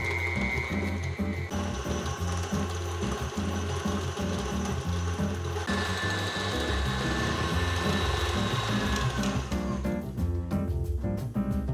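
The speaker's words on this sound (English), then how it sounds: "now we just need to beat until creamy. Give it a few pulses" Electric mixer beating butter and sugar into a creamy mix for yo-yo biscuits, a steady loud continuous whir with slight pulsing changes in pitch, running alone without talk.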